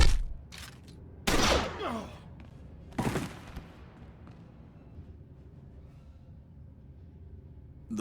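A shootout in Star Wars: The Old Republic erupts as a few loud blaster bursts and shots with sharp attacks, each fading into reverberant tails, then giving way to a quiet lull.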